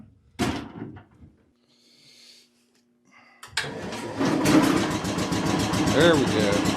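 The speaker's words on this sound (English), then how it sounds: "Now I want to get it started." A Cub Cadet garden tractor engine starts with a Delco starter generator: a thump, a quiet pause, then the engine catches and runs steadily and loudly, rising slightly as it settles into a near idle.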